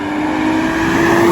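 A loud BMW N55 engine, Stage 2 tuned at 430 hp on 95 octane fuel, rumbles steadily through its exhaust, a sustained deep droning tone heard up close for a brief moment.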